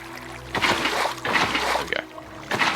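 Water being scooped from a source block in the Minecraft video game, heard as several short liquid splashes and sloshes in separate bursts, close and moderately loud with no speech over them.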